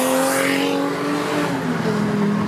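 A supercharged Chrysler Crossfire SRT6 roars close by, its engine note holding steady with a whining supercharger tone running through it, and no talking.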